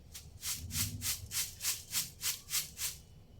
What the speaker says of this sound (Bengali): চিড়েগুলো আমি চেলে নেব অল্প অল্প করে একটা স্টারের মধ্যে কিছুটা ঢেলে নিয়েছি